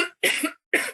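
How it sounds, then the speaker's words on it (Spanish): Two sharp, close coughs from a woman during a radio interview, separated by a short pause. "perdón por la tos"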